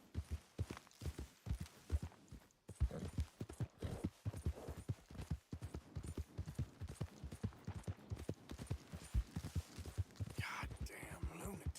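Horse galloping in Red Dead Redemption 2, rapid rhythmic hoof beats thudding close and steady for the whole stretch, with faint other game sounds near the end.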